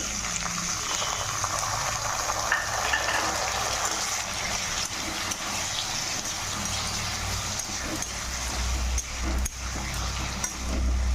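Onion, chopped tomato and spices fry in a wok, giving a steady sizzle with scraping stirring noises and a low rumbling undertone throughout, with no talking.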